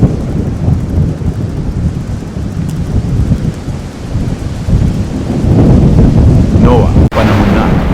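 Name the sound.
rain pouring with thunder as a storm begins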